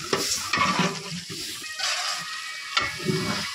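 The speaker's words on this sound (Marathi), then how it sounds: "आणि व्यवस्थित अशी फोडणी आहे ना फिरवून घेतात आहे." Spice tempering for a traditional Konkan chicken curry sizzles in a large pot as it is stirred, with repeated scraping strokes and hissing oil, close and fairly quiet, no voices.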